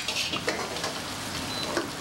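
Two woks run at once in a busy Bamiyan Chinese restaurant kitchen, giving a steady, close, loud sizzle of stir-frying with scraping and tossing throughout and no speech.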